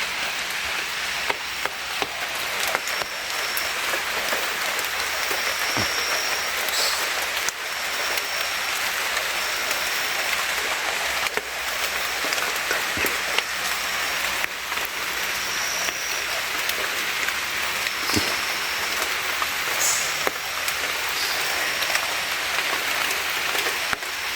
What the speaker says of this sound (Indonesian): aku hari ini lagi-lagi hujan turun yang kedua kalinya